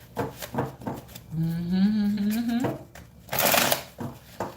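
Tarot cards being shuffled and drawn, a few soft riffling bursts and a longer flurry of card shuffling, close by, mixed with a woman's speech and humming.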